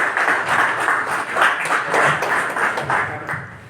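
A conference audience in Turin applauds, with clapping swelling and easing in waves, fairly close and lively, no talk over it.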